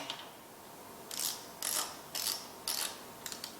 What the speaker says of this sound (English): nip up the pinch bolts